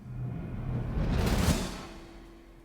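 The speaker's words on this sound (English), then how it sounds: "And then I've also put reverses in and some swells because" Reversed effects and a rising swell from a haunting atmospheric music cue build from a low rumble into a broad airy whoosh that peaks midway, then fades away with a faint lingering tone.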